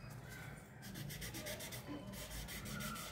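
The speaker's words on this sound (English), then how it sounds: "If shading is coming outside of your outline, then just rub it." Pencil shading on paper being rubbed to blend it while drawing the outline of a baby, a close, steady scratchy rubbing that runs continuously under faint background noise.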